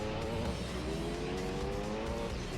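A race car in Gran Turismo 3 lapping the Monte Carlo street circuit, its engine droning steadily with rising harmonic pitch and tyre squeal mixed in, loud and continuous throughout.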